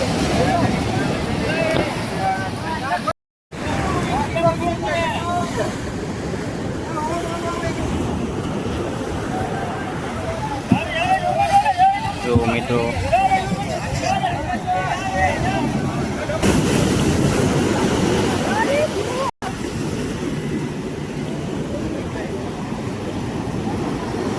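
Fishing boats head out to sea with wind buffeting the microphone and waves washing steadily around them, a continuous loud rush interrupted by two brief dropouts, with voices talking intermittently.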